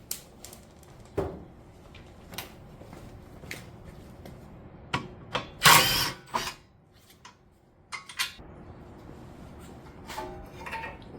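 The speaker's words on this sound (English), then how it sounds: "Unbolt your caliper." Ratchet and tool work loosening the brake caliper bolts on a 2006 Honda CR-V during strut and ball joint work, heard as scattered clicks, clanks and metallic knocks with one sharp louder clank midway, close up and without talk.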